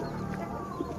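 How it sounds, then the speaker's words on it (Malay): Chicks peep in a short, busy chorus of faint high cheeping over a steady background, with no talking. "Anak ayam super."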